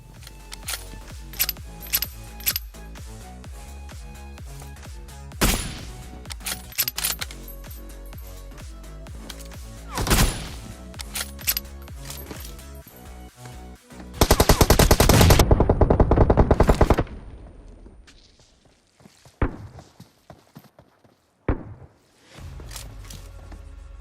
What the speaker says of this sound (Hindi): लेकिन सबसे पहले आपके लिए है दो कार 98 के हेडशॉट जो मतलब पूरी मैच पलट देते हैं